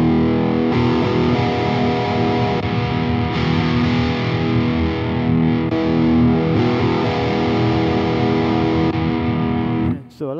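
Electric guitar played through an Engl Savage 60 Mark II all-tube head set to its smooth mode, giving thick distorted chords and riffs that ring loud and sustained for about ten seconds before cutting off.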